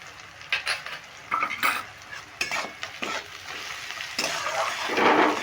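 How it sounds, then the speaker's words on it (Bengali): Onions frying in a pan with salt and sugar for egg tadka, a continuous sizzle broken by repeated scraping stirs of a spatula against the pan, close and fairly loud, with no talking. "এবার নুন আর চিনিটা দিয়ে খুব ভালো করে পেঁয়াজটা ভেজে নিচ্ছি"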